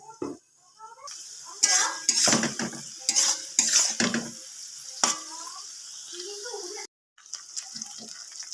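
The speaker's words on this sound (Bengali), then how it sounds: "খুব সুন্দরভাবে বিনসটা ভাজা হয়ে গেছে।" Green beans fry in butter and oil in a pan while a utensil scrapes and clatters against the metal. The knocks come in bursts over a soft sizzle, with a brief pause near the end.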